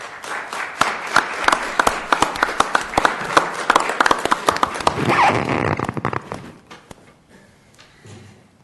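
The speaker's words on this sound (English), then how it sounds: "let's welcome all of our City Council candidates to the dais and welcome them with applause" Audience at a city council candidates forum applauding as the candidates are welcomed to the dais: scattered, uneven claps that thicken into a brief burst, then fade into quiet room noise.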